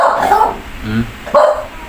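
A mother dog gives a few close, loud barks and yips at irregular intervals, with a person's voice faintly mixed in.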